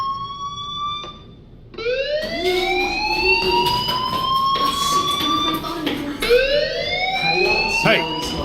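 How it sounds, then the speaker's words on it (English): A school fire alarm in the Life is Strange video game wails in repeated rising sweeps, loud and close, following a brief earlier tone and a short pause, with background chatter underneath. "Hey, do you hear that fire alarm?"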